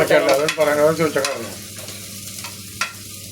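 Onions sizzle and crackle in a hot pan with garlic and ginger while being stirred, with a brief scrape and faint, steady frying close up.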